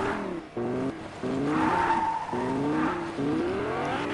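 A Fortnite car boosting in a video game, its engine revving up in repeated rising sweeps broken by short dips like gear shifts, loud and steady over about four seconds with no talking.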